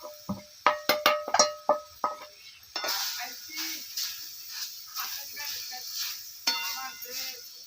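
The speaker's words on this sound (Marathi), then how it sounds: "आता हा खिसलेला आंबा आहे ना आपण ह्याच्यामध्ये टाकायचा आहे" Grated mango tipped into a heated kadhai for gulamba: a quick burst of metallic clinks and taps, then a softer, uneven sizzle and shuffling stir.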